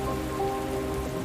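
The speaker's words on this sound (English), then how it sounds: "It's raining then. Yeah, it's definitely raining." Steady rain falls on a surface, a dense continuous patter and hiss that holds even throughout, fairly close, with no voices.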